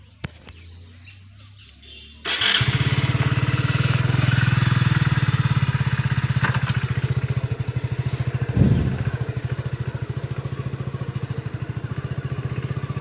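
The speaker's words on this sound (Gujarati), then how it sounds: "જો હું હવે બાઇક કાઢીને હવે જઈએ ડુમાણા" After a quiet start, a motorcycle engine fires up close by and runs at a steady throbbing idle, with one brief surge midway. Faint bird chirps sound in the background.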